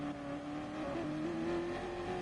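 Ford race car in a Gran Turismo-style Gr3 race at Tokyo Expressway: a steady, sustained engine whine holding a high pitch that rises slightly, heard alone and fairly close, without talk.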